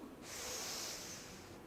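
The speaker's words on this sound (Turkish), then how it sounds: "Nefesi tamamen boşalttım." A long, steady breath pushed out through the nose or mouth during yoga bandha practice, a soft airy hiss that starts suddenly, holds fairly even and loud, then eases, heard alone at close range.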